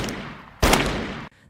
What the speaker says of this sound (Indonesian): Esok harinya, Hannah berlatih menembak